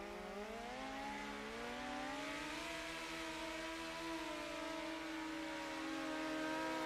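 A dirt midget race car engine in a racing video game rolls onto the track, a faint, steady drone whose pitch rises gradually with a layered whine, and no talk over it.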